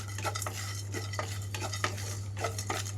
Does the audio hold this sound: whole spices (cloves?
yes